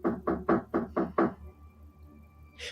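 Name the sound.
banging on a door, horror story sound effect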